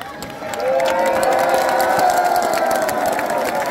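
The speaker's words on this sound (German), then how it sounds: "So viel Applaus hatte keiner." A large stadium crowd at a Borussia Mönchengladbach squad presentation swells into sustained applause and cheering for a player, a dense roar rising after a quieter start and holding loud, with a faint voice underneath.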